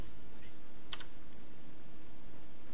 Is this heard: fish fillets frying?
no